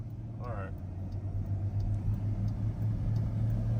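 Dense road traffic backed up behind an accident, a steady low rumble of idling and slow-moving car engines, with a brief chirp early on, continuous and fairly close throughout.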